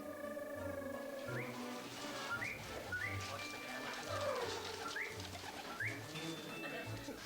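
Baby pigeons on a film set coo in a steady, repeating low rhythm, soft and close, with rising chirpy calls and general background noise mixed in.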